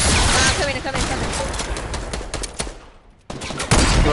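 Gunfire in a battle royale video game, loud and close: a dense run of rapid automatic shots that thins and fades briefly before another burst picks up, with voices talking over part of it.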